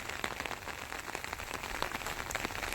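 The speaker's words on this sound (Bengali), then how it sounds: "সকাল থেকেই ঝিমঝিম করে বৃষ্টি পড়ছে" Soft, steady patter of light rain falling on a surface, continuous and fairly quiet, with no voices.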